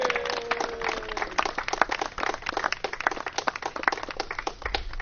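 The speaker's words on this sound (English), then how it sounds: "A big round of applause for all our veterans again." A crowd claps for veterans at an outdoor Queens Flag Day ceremony marking World War I's centenary, a dense steady patter of hands lasting throughout, with a faint voice briefly underneath at the start.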